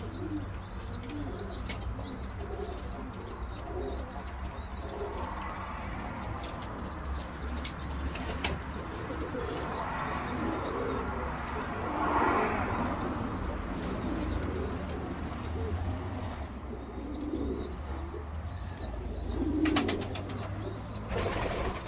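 Domestic pigeons, German tumblers, coo softly in a loft while a parent regurgitates food to three chicks, with steady low cooing, occasional wing flutters and chirps under a constant background hum, no talking.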